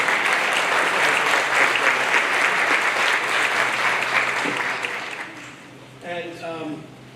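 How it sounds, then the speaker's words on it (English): Audience applause at a 2024 high school scholarship night for the graduating class, a dense sustained wash of many hands clapping that fades out after about five seconds, followed by a voice beginning to speak. "Another round of applause for this incredible and outstanding class of 2024."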